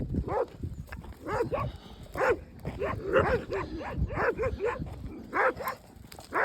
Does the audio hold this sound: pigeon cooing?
no